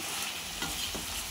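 Tomato and green chilli chutney sizzles steadily in a hot pan as it is stirred after salt and turmeric go in, a close, continuous frying hiss with a couple of soft scraping strokes and no voices.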